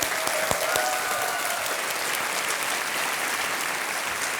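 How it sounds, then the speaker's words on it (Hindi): A studio audience at a TV quiz show applauds steadily, a dense even wash of clapping that holds at a moderate level throughout, no voices over it. "तालियां बजती रहें देवी और सज्जनों"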